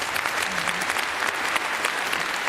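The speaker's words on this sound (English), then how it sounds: "let's give Varshini a warm round of applause." An audience at a climate conference breaks into a warm round of applause, a thick, continuous wash of clapping that stays loud and even throughout.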